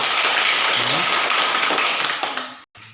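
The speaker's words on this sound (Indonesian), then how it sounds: "Tepuk tangan, bagus." A school class claps hands together in a brisk burst of applause, with voices mixed in, before it stops abruptly.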